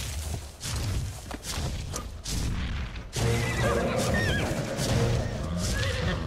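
A horse in the video game Ark Survival Evolved lets out a loud, wavering whinny in the second half, preceded by scattered thuds and game effects.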